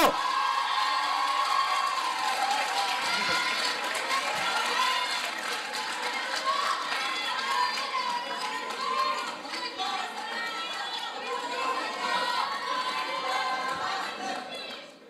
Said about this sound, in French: applaudissez fort l'équipe du Pour, la première année Sciences Math 3.